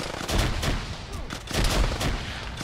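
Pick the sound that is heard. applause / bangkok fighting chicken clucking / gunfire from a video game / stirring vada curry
gunfire from a video game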